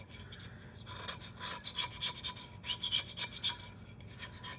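A Dremel rotary tool scraping around the rim and surface of a tumbler cup during clean-up, giving an uneven series of rasping, scratchy strokes close up, with no voices.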